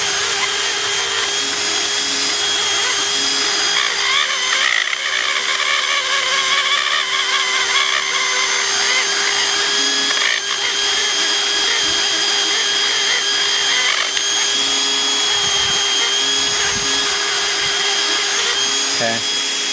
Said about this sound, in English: then you're going to use the round sanding wheel to flatten it out